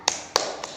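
Three sharp, separate claps from children doing a rhythmic clapping routine before a storytelling session, close and crisp with a short pause after each, the last clap softer than the first two.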